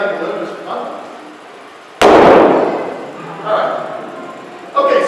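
A methane-filled balloon ignited during a chemistry demonstration show bursts into flame with a sudden sharp whoosh-bang, loud and close, fading over a second or two while a crowd murmurs before and after.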